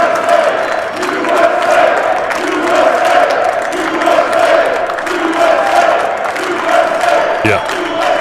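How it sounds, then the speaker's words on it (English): A large crowd at a political event chants "USA, USA" in a steady, repeating two-beat rhythm, loud and sustained across the hall. "They start chanting USA, USA."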